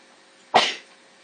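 A single sharp human sneeze bursts out close and loud after a quiet moment, then trails off quickly into silence.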